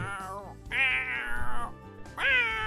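Cat meowing in The Sims 4 game, three drawn-out harmonic meows in sequence, the middle one longest, loud and close.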